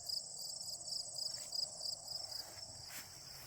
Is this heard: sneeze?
no